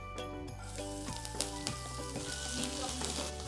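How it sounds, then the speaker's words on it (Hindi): Curry leaves, green chili, garlic and ginger sizzle and crackle in hot oil in a pan, with a busy, continuous frying hiss and sharp pops as the tempering is stirred, heard close without speech. "जब तेल गर्म हो जाए इसमें डालेंगे कड़ी पत्ता, हरी मिर्च, गार्लिक एंड जिंजर"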